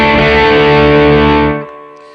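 Guitar driven through an Xotic AC Comp pedal set to standard AC boost mode: one loud, sustained overdriven chord ringing close and alone, then cut off to near silence.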